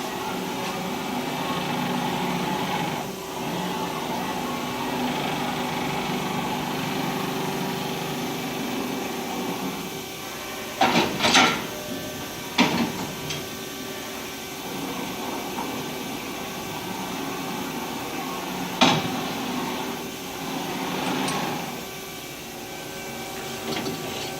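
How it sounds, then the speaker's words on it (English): Haas ST10 CNC lathe with a bar feeder starting up and calibrating, a steady mechanical whine and hum with several sharp clunks and bursts partway through, no speech. "And then start it, close the spindle, start it, and it's gonna calibrate the machine."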